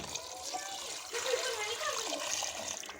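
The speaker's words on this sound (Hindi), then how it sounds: "डालेंगे पानी इसमें अपना।" Water pours steadily into a cooking pot of beef trotters for paya, a continuous splashing gush lasting a few seconds.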